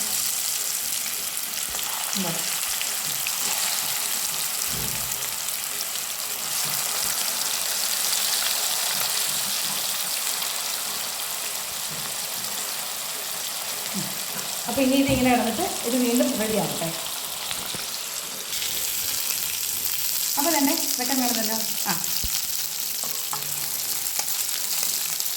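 Chicken 65 pieces deep-fry in hot oil with a continuous loud sizzle and scattered pops, while someone speaks briefly over the frying now and then.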